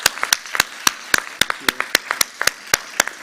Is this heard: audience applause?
yes